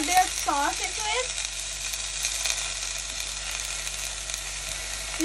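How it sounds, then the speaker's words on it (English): Ingredients for green lentil sprout soup frying in a pan with pepper powder and salt, a soft steady sizzle; a voice is heard briefly near the start. "I'm going to like fry for like about 1 minute"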